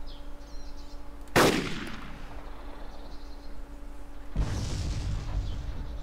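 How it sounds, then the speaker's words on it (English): A large explosion in the video game Arma 2 erupts suddenly as one loud broadband blast, then a long rumbling decay, followed a few seconds later by a second heavier rumble over steady ambient background. "That was some explosion."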